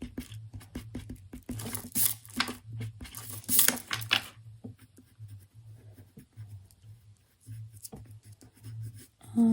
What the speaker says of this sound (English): I'm just going to erase some of it to give it a little bit of a highlight